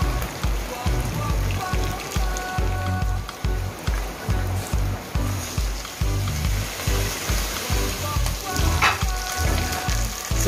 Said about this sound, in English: Just fry it up on that side here and then we'll come back